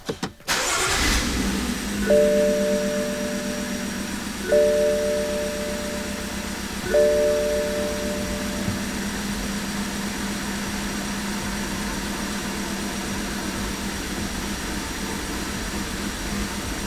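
BMW N55 engine cranking and catching, then settling into a steady idle; three repeated chime tones sound from the car in the first seconds, and the close, even hum continues alone without talk.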